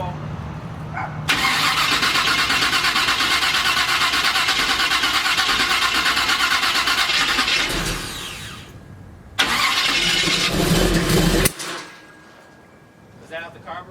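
Chevy C10 engine cranking after two years sitting, a long loud run of starter churning that fires and surges, cuts out, then catches again briefly before dying, close, with people talking around it.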